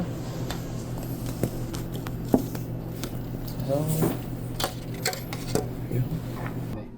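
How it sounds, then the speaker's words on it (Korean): A spoon stirs a homemade mouthwash of salt and xylitol, with faint clinks and scrapes against the container over a low background. "그 숟가락으로 그냥 저어주시면 됩니다. 녹을 때까지 저어주시면 가글이 완성됩니다."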